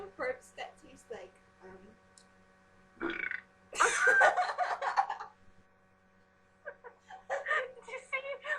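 Several loud, drawn-out burps from a young person, near and voiced, with talking and giggly speech before and between them.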